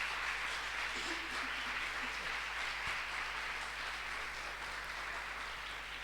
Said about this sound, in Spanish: denle un gran aplauso al Rey de Gloria en esta mañana